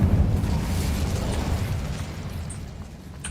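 A Bombarda blasting spell detonates in the Hogwarts Legacy video game, a loud rumbling explosion that opens with a heavy boom and decays slowly over a few seconds, with no talking.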